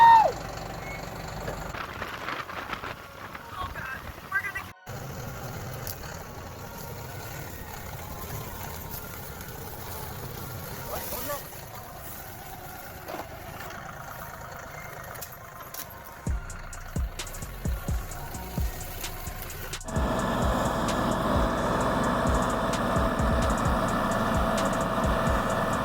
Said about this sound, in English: One big tractor.